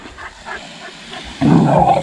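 A dog growls and grumbles in short bursts during playful roughhousing while being washed outdoors on a hot summer day, ending in a louder, rougher growl up close.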